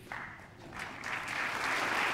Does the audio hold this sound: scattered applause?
yes